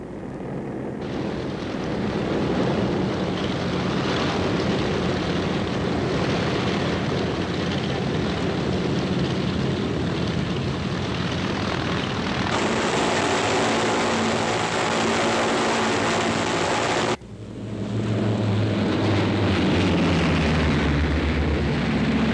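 C-47 aircraft towing gliders pass in a loud, continuous propeller-engine roar that swells and shifts in tone, with a sudden brief dip near the end before the droning resumes.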